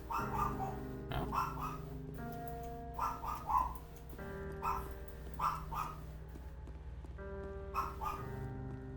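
A dog barks in short bursts several times at a steady distance, set against a constant tonal hum and background noise.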